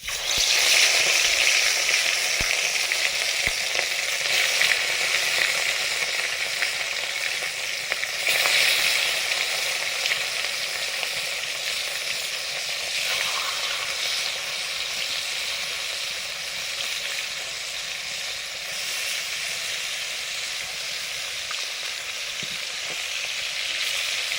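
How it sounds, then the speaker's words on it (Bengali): Rohu fish frying in hot oil, seasoned with chili paste, gives a steady, dense sizzle that holds evenly from start to finish with no voices. "মাছটা ভাজবো এবারে।"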